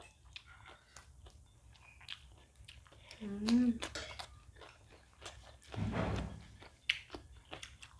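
Crispy fried chicken wings are bitten and chewed alongside kimchi fried rice, with faint crunching and chewing sounds mixed with nearby talk and a short hum.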